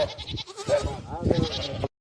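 Goats bleating on a Saudi farm while they eat, several short wavering calls spread through the clip, fairly close, mixed with someone talking nearby.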